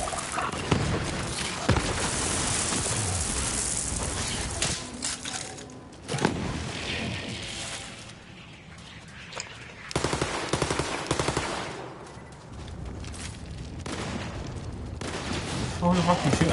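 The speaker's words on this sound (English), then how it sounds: "Who the fuck is shooting?" Gunfire from the looter-shooter game Borderlands 3, with bursts of automatic fire and sharp shots filling most of the stretch, loud and dense, easing briefly before resuming, while a player talks over it.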